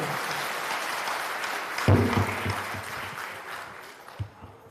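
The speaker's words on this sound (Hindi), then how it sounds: "एक बार जोरदार तालियों से उनका स्वागत करें" A crowd claps in a burst of applause, broad and fairly loud, fading toward the end with a few scattered claps.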